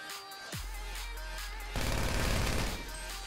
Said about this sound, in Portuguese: Puxei tiro no cara ali, mas ele foi ali pra trás.